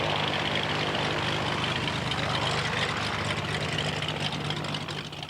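A propeller airplane's engine drones steadily and loudly throughout, a continuous broadband roar with a low hum underneath, on an airfield of aircraft seized by the DEA.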